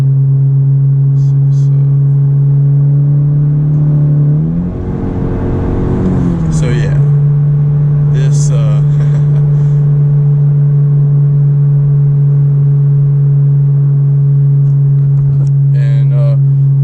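Interior of a Honda Civic turbo with a 3-inch straight pipe exhaust, giving a loud, steady low drone that swells briefly in the middle as the engine revs, with a person talking over it throughout.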